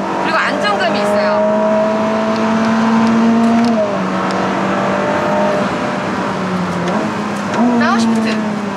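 A Ferrari SF90 Stradale sports car accelerates steadily out of corners, its engine note rising and shifting through gears in loud, close bursts, with a person talking over it.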